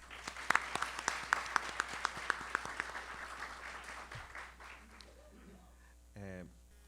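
At an academy event, a speaker is greeted by a few sharp, spaced claps standing out over a thinner patter of applause. It fades out after about four seconds, then comes a brief noise and a short voiced sound.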